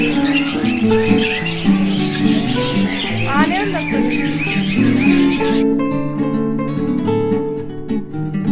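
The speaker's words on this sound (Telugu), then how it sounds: "చిలుకల శబ్దాలు చూడండి ఇలా సొంపుగా ఉంది కదండి" Parrots at an exhibition enclosure squawk and chirp in busy overlapping bursts, with a swooping call near the middle, mixed with people talking and other background noise.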